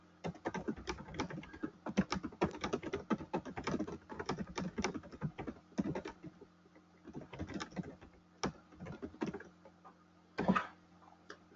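Fingers type a note on a computer keyboard, giving quiet, rapid clusters of key clicks with short pauses between bursts.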